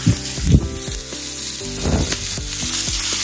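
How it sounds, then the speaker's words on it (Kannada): Dried red chillies, tomato and mint fry in hot oil with a loud, continuous sizzle, punctuated by a few stirring scrapes in the pan. "ಒಂದು 2 ನಿಮಿಷ ಚೆನ್ನಾಗಿ ಫ್ರೈ ಮಾಡ್ಕೊಳ್ಳೋಣ ಎಣ್ಣೆಯಲ್ಲಿ"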